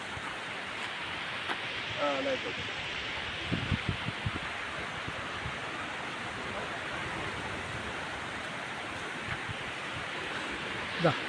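Steady broadband roar of Arabian Sea surf washing in where a river meets the sea, constant and fairly loud, with a few faint voices briefly audible near the start.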